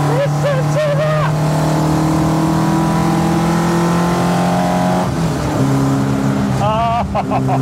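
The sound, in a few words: 1972 BMW 2002 engine revving while driving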